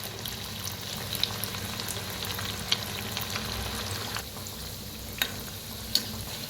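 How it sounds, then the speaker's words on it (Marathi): Cut pieces of leftover chapati deep-fry in hot oil, giving a steady bubbling sizzle close by, with a few sharp taps and clinks scattered through. "हे पहा आता तळून घेऊया आपण. तर तेल चांगलं तापलेलं आहे."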